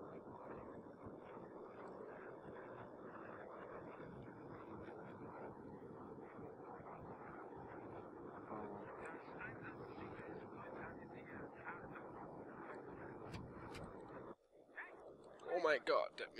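Jet aircraft flying in the Battlefield 3 video game, a steady loud engine roar running continuously for most of the clip, then cutting out near the end, with voices talking over it throughout.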